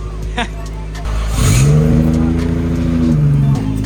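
A Nissan Skyline R30 with a valved exhaust idles and then revs, its engine note swelling and holding steady before settling, heard up close with people talking over it.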